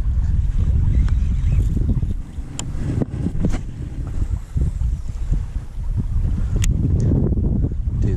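Strong wind buffets the microphone in heavy gusts while fishing over waves, rumbling low and loud, with some water sloshing underneath.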